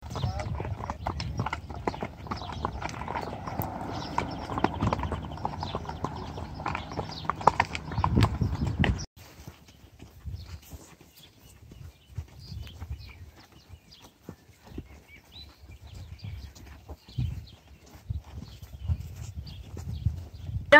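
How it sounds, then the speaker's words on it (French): Horse hooves clip-clop steadily on a ride in New Zealand's South Island in rainy weather, close and rhythmic at first, then quieter and sparser, with people talking over them. "On va voir du coup comment ça se passe le cheval."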